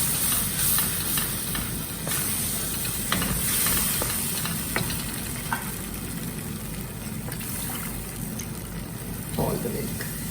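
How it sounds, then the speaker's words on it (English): Milk is stirred into a pan over a low flame while making macaroni and cheese. A continuous hissing, steamy sizzle is broken by occasional soft spoon taps, over a low background rumble. "Then you add your milk. Go on stirring."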